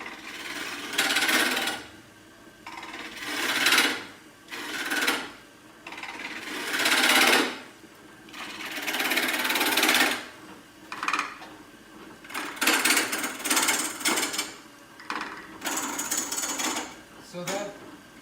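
A wood lathe doing multi-axis turning on a burl: the gouge bites in repeated rhythmic bursts of scraping and cutting, rising and fading every couple of seconds over the motor's low hum.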